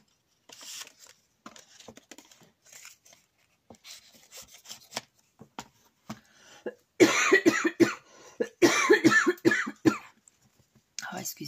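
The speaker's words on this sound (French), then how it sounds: "j'essaie de pas tousser, mais à un moment donné, je n'y arrive plus" Someone coughs several times in a row, loud bursts clustered near the end, after a stretch of quiet rubbing and paper handling sounds while opening an advent calendar for scrapbooking.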